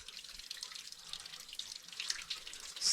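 Water trickling and dripping inside a small limestone cave with stalactites and stalagmites, a faint, steady watery patter with a few brighter drops standing out, heard alone.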